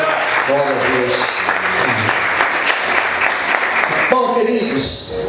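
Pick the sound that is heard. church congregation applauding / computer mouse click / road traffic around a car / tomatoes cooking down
church congregation applauding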